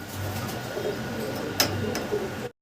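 Fancy pigeons coo softly in a low, muffled murmur against steady background hiss, with one brief click partway through.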